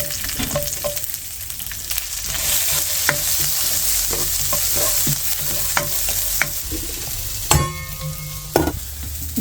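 Cumin seeds and onion fry in a pan, a steady close sizzle with scattered stirring scrapes and sharp utensil clinks throughout, louder clatter near the end.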